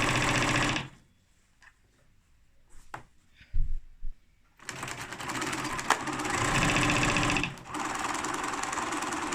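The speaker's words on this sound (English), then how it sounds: "So my machine is just on a standard straight stitch." A sewing machine running a standard straight stitch on fabric for bunting, a brief buzzing burst, then a pause with small clicks, then a long steady whirring run close up, while a table rattles.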